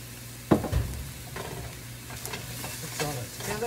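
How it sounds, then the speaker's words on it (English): Meatball mixture with dried basil gets mixed together in a bowl. Close, soft squelching and scraping strokes come in irregular bursts over a low background hum, with no talking. "Mix all that together."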